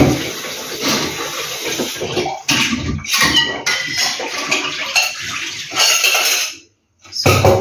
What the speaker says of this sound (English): I'll wash the dishes for a while because it's really messy